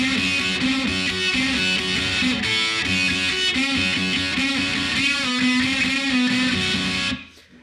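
Electric guitar playing slow bends and unison bends from a song's solo, a dense, driven, continuous lead line that plays steadily and then cuts off abruptly at the end.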